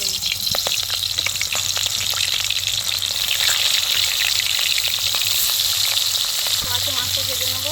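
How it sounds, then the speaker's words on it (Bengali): Prawns fry in hot oil in a pan, a loud continuous sizzle with crackles and occasional stirring clatter, close up and steady throughout, with no talking. "দিচ্ছি তেল, চিংড়ি মাছগুলো ভেজে নেব।"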